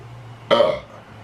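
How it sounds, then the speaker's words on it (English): A single loud, short burp from a person, lasting about a third of a second and standing alone against quiet room tone. "Sorry about that burp."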